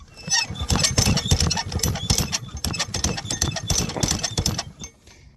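A drywasher's metal yoke fitting smacks repeatedly as the machine runs, giving dense rhythmic knocks over a steady mechanical clatter, with a voice talking over it.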